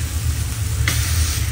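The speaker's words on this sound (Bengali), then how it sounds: "বেকনটা বেশি ভাজা দেবো না বেশি ভাজলে শক্ত হয়ে যাবো" Bacon frying lightly in a pan gives a steady, close sizzle with a short brighter crackle near the end, and no one speaks.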